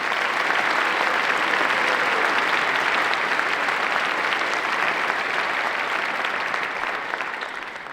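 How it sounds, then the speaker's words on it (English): An audience applauds students at a Kansas John Philip Sousa honor band concert, a dense, steady roar of clapping that holds loud for the whole stretch and eases slightly at the very end. "could we give those students a round of applause"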